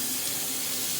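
Hot water runs steadily from a kitchen tap as hands are washed, a close, even hiss that continues unbroken for the whole second.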